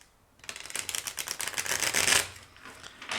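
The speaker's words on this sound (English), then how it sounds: "Let me just shuffle it one more time" Cards being shuffled in a rapid, rattling flutter of clicks that builds for a couple of seconds, then eases off into quieter handling.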